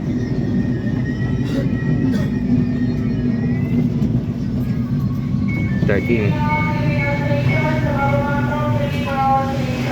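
A Mitsubishi CAF 13000 series LRT Line 1 train hums steadily at close range while departing, a chiming tone plays, then a recorded Filipino announcement voice speaks over the continuing rumble.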